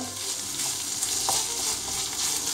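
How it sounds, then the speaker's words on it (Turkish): Minced meat and onions sizzle and crackle in a frying pan, a dense steady hiss with occasional stirring scrapes, close and fairly loud with no voices. "kıymamız ve soğanımız güzelce kavrulmaya başladı"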